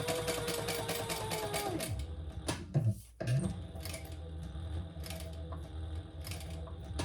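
A sewing machine runs a fast continuous stitch along a row on a messenger bag, then pauses briefly and restarts into another steady run, close and clear.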